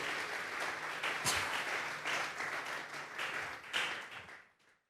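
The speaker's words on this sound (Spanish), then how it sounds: "Vamos a regalarle ofrenda de palmas al Dios de la gloria." A church congregation claps as an offering of praise to God during a Thursday doctrine service, a lively burst of many hands with scattered sharp accents, swelling and then fading out abruptly near the end.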